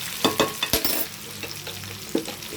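Brinjal pieces fry in a pan as they are stirred, a close sizzle broken by a quick run of spatula scrapes and knocks early on and one more toward the end.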